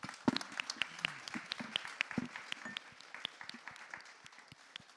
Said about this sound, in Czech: já poprosím o potlesk pro naše řečníky